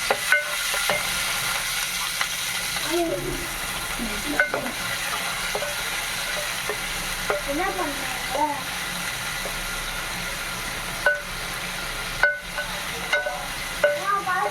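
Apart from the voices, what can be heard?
onions frying in ghee for wheat rava kichdi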